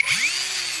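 A Parkside Performance X20V cordless angle grinder under repair, its motor spinning up with a rising whine that settles into a steady high-pitched hum, close and alone.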